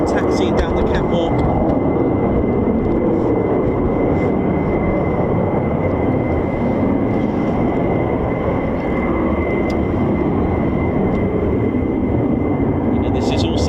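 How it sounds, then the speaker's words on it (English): An F-15 fighter jet taxiing at RAF Lakenheath produces a loud, steady broadband engine roar with a sustained whine, continuous and close throughout, with a voice speaking over it. "Here comes another F-15 taxiing down the catwalk."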